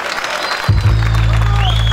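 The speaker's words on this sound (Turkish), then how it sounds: "Bir alkış şöyle, moral alkışı." Crowd applause at a spring festival in an open prison, a dense wash of clapping that continues as a loud, low droning hum from the sound system cuts in and dominates.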